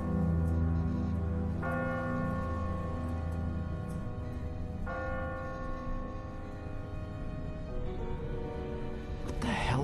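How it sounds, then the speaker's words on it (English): A church bell tolls in a bell tower in The Walking Dead video game, with three loud, ringing strikes spaced a few seconds apart. Each strike rings on and overlaps the next. "Ask not for whom the bell tolls."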